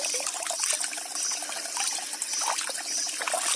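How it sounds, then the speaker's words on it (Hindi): Cold spring water flows straight out of the ground in an Uttarakhand forest, making a close, steady trickling and gurgling with small irregular splashes and no talking. "पानी इतना ठंडा है और सीधे जमीन से निकल के आ रहा है"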